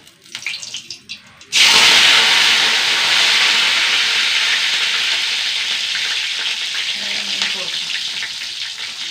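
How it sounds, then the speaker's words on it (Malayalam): Curry leaves hit hot oil and erupt into a sudden loud, hissing sizzle that slowly eases off while crackling continues, close up, after a short quiet stretch with faint sounds. "കറിവേപ്പില ഇട്ട് വറുത്താ"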